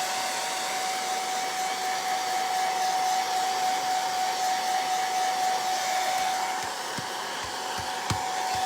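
A hair dryer blows hot air steadily over a wooden quilt block from a DIY kit, a loud continuous whir with a high whine. The sound holds unchanged throughout, apart from a few soft knocks near the end.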